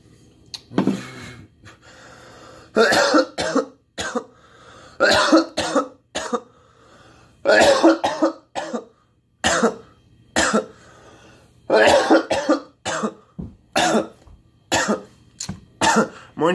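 Repeated harsh, hacking coughs and throat clearing after smoking Green Crack cannabis, coming in close, loud bursts with short gasping pauses between them.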